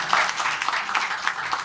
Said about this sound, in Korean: 박수 좀 많이 보내주세요